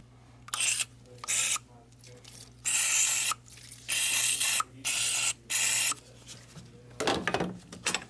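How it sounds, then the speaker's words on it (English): Short hissing bursts of WD-40 spray around a fuel injector on a Mercedes Sprinter van engine, about seven separate sprays in an uneven rhythm, close and fairly loud, followed by a brief rustle. "I'm gonna get some WD-40 and spray it around the injector."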